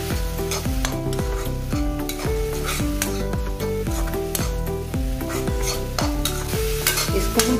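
Spices and a green chickpea mixture sizzle and fry in a pan while a spoon stirs steadily, scraping rhythmically against the metal, close and continuous with no talk.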